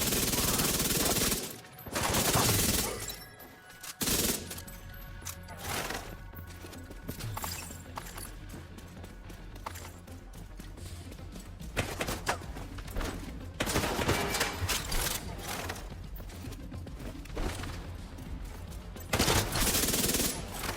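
Gunfire in The Division 2 on legendary difficulty with a backfire build: bursts of rapid automatic shots, loud and close, repeated throughout amid game effects.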